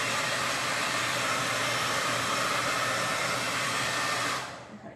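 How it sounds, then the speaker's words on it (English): A blow dryer runs steadily on a wet craft project for several seconds, a loud continuous whoosh close by that cuts off abruptly near the end. "I'm gonna hit that, the blow dryer for just a second."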